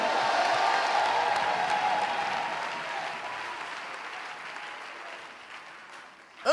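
A church congregation applauding at a sermon, dense sustained clapping that slowly tapers off over several seconds before a sudden louder burst at the end.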